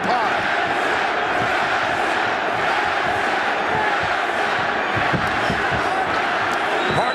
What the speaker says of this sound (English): Partisan crowd providing the extra fuel with chants of Benson